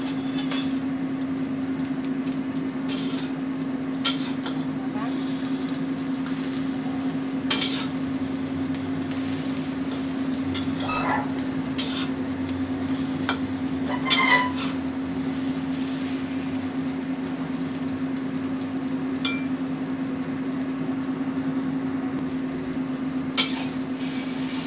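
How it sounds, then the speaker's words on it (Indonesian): Eggs and mushrooms fry in a pan over low heat for a Taiwanese-style omelette, giving a steady close sizzle with a low hum and occasional sharp clinks of a utensil stirring against the pan. "Goreng telur ini apinya kecil ya, jangan besar-besar soalnya bisa gosong."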